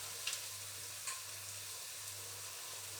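Aloo gobi chapli kababs shallow frying in oil in a small pan over moderate heat, a steady soft sizzle throughout with a couple of faint clicks, no talking.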